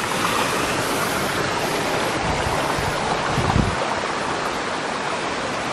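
Mountain river stream rushing beside a wooden bridge on a trail up Gunung Salak toward Kawah Ratu, Bogor, West Java; a steady, loud, broadband wash of flowing water fills the whole stretch, close by and without talk.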